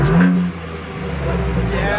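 A 2022 Ford Bronco's twin-turbo V6 revs with its electric exhaust cutout open, a loud burst early on settling into a steady rumble, with a voice talking over it.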